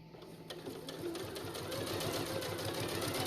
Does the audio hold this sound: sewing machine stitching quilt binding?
yes